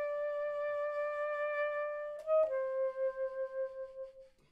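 Measure 7 of a saxophone etude, played without the turn: a solo saxophone holds a long, clear note, then a short quick figure and a second sustained note that slowly fades, close and alone.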